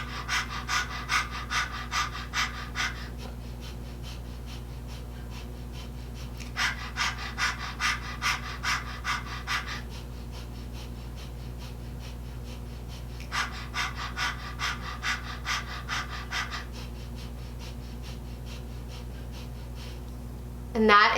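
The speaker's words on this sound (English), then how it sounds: "Then go back to the panting." Kundalini yoga Breath of Fire, rapid rhythmic panting breaths in three bursts of several seconds each, separated by pauses, close to the microphone over a low steady hum.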